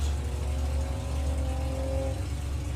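A Volkswagen drag race car roars off the line at Santa Pod during Bug Jam eliminations, a loud sustained engine drone with rising harmonic tones, close and unbroken.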